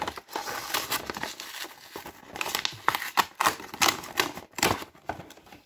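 Cardboard and plastic packaging from a Pokémon card box, a Larméléon Galar coffret, crinkle and tear up close in quick irregular bursts that grow louder and sharper toward the end.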